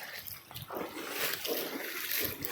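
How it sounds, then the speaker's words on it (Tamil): Rainwater runs through a flooded residential street into a roadside drain, giving a steady, moderately loud splashing rush that swells and dips throughout with no talk over it. "இந்த மழை நீர் தண்ணி எங்கெல்லாம் போகுது பாருங்கள்"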